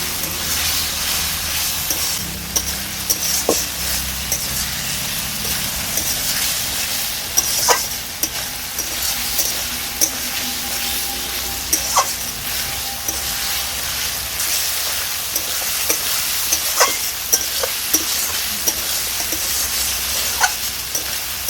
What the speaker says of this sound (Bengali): বেগুন আলুটাকে আমি বেশ ভালো করে একটু ভাজা ভাজা করে নিচ্ছি।